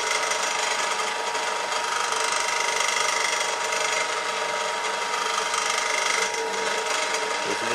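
A drill press fitted with a tapping chuck drives a tap down into a hole and backs it out, making a loud, steady mechanical whir and grind that holds without a break from start to finish.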